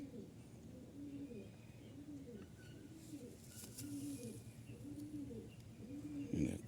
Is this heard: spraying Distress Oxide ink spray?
no